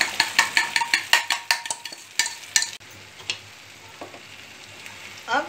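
Beaten eggs for egg bhurji are poured into a hot pan with kalonji over a lowered gas flame. A rapid series of clinks and scraping stirs is followed by a soft, steady sizzle of frying.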